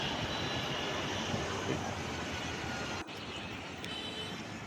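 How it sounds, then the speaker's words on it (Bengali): An airliner landing at an airport, its engine roar a steady broadband rumble throughout, loud and continuous, with a brief dip partway through. "বাংলাদেশ এয়ারলাইন বিমানটি বিমানটি ল্যান্ড করছে"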